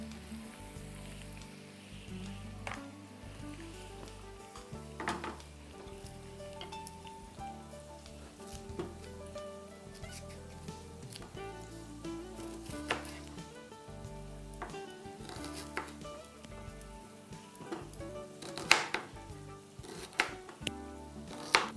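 Potatoes for a Punjabi potato gravy roast in a pan, a faint, steady rain-like sizzle with scattered small crackles and occasional utensil taps, heard close and quiet.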